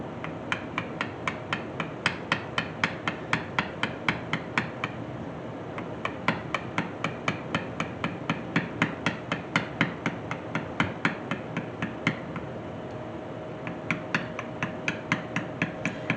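A mallet tapping a beveling tool into leather, striking in a fast, steady rhythm of sharp, close knocks that runs almost continuously, with one short pause before the tapping resumes; no voices.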